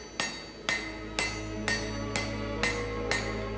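Seven evenly spaced, ringing hammer blows on steel over an anvil horn while drawing out the reins of blacksmith's box jaw tongs, each strike sharp and close with a steady low hum beneath.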